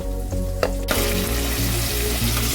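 Onions frying in a pan for a Telugu palak paneer curry, a steady dense sizzle and crackle that carries on unbroken from start to finish, with a few soft clinks of stirring against the pan early on.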